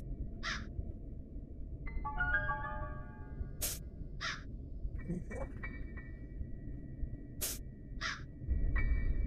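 A crow in the horror video game Granny caws three times in short, evenly spaced harsh calls, loud and close, over a low background hum, with a few metallic clinks and tonal game sounds between them.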